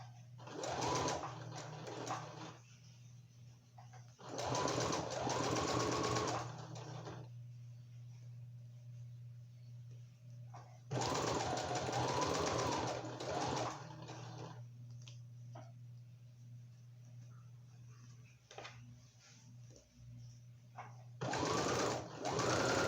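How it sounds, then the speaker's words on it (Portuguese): A sewing machine stitches a notebook cover in several loud, rapid bursts of whirring needle action, separated by pauses filled with a steady low motor hum. "E agora eu só vou seguir a minha costura."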